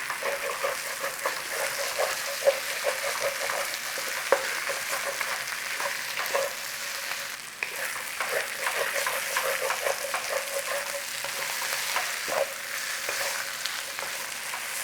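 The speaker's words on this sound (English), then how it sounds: "It's a stir-fry potato dish, okay, so it's going to be like chips really" Potatoes stir-fried in oil in a pan, a steady close sizzle with scattered crackles and occasional scraping stirs running throughout, no voices.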